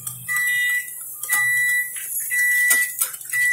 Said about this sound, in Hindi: हमारा माइक्रो और प्री हीट हो चुका है आपको बीप सुनाई दे रहा है शायद